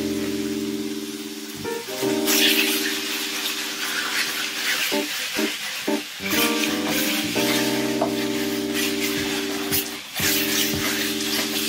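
Steady sizzle of chicken frying in a pan with a constant hum and tonal drone throughout, with occasional clatter of stirring in the pan.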